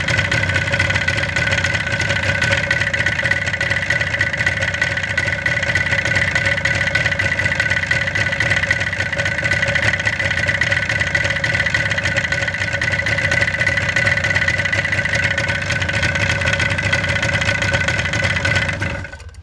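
A Yamaha RD400 motorcycle engine, its carburetor jetting being adjusted, idles steadily and loudly up close for about nineteen seconds with an even buzzing drone, then cuts off abruptly at the end.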